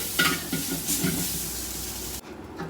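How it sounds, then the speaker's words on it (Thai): Spaghetti with pork sauce stir-fried in a pan, a steady close sizzle with scraping stirs and light clinks of utensil on the pan, cutting off abruptly near the end. "นี่ค่ะเราผัดไปเรื่อยๆ ค่ะ"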